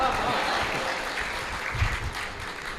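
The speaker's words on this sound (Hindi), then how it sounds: "तालियां तो इस बात पर बजाइएगा" An audience at a Hindi comedy poetry recital claps continuously, a dense, steady wash of applause over the full stretch, with a voice faintly mixed in.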